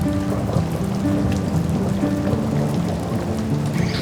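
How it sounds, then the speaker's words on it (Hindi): Steady rain falls during a summer trek near Bhrigu Lake in the Himalayas, a dense, constant patter over a low rumbling background, close and fairly loud, with no voices. "और अब बारिश हो रही थी यहाँ, तो हमने फिर से पोंचो पहन लिया था।"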